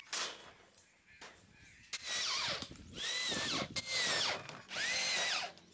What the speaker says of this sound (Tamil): இந்த பிளேவுட் இதுக்கு மேலே போட்டு சீட் போல்ட்டை போட்டு டைட் பண்ணிக்கிடுவோம்.